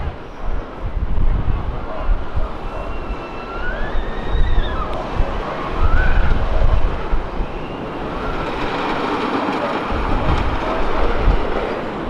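Cyclone wooden roller coaster running at Coney Island, heard as a sustained rumbling clatter of cars on track with rising and falling screeches, steady and fairly loud for the whole stretch amid amusement park noise, with no talking.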